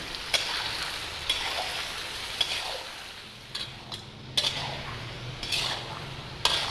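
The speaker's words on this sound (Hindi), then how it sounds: "जैसे ही आप चिकन को डालें उसके बाद आपने इसमें चम्मच जो है वो रेगुलर चलाते रहना, ताकि ये नीचे ना लगे" Chicken fries in a karahi over a high flame, a steady crackling sizzle broken by repeated sharp clinks and scrapes of a spoon stirring against the metal pan.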